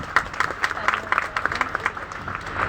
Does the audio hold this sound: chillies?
no